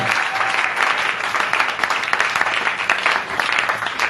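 A church congregation applauds continuously in praise during a French-language service, a dense, steady wash of clapping from many hands filling the room, loud and unbroken, with faint voices mixed in.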